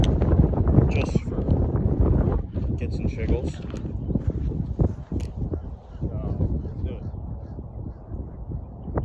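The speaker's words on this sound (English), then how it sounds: "Wind's into us, so we're gonna have to hit it a little bit harder." Wind gusting across an open golf course buffets the microphone in a steady low rumble, while a person talks throughout.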